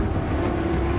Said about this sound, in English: The GT40 is furiously fast.